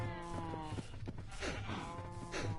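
Cows moo in Minecraft Bedrock Edition on PS4, several low, drawn-out calls overlapping in quick succession, fairly close and loud, with no talking.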